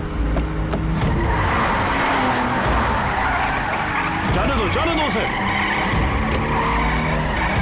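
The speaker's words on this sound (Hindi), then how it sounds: "तेज चलाओ गाड़ी" Car driven fast during a chase in a Hindi film, with tires skidding and squealing over a loud, continuous engine roar, mixed with music and a shouted voice.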